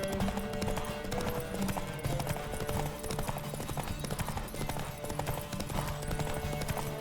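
Horse hoofbeats in The Witcher 3 game, a steady galloping clip-clop running the whole time under a busy music and effects bed, with no talking.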